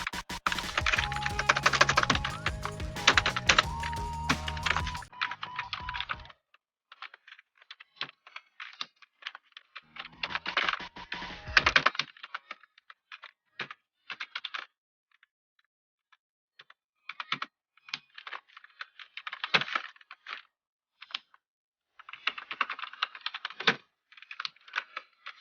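Keys clatter on a computer keyboard in quick bursts of typing, broken by pauses of near silence, with one dense, louder run at the start.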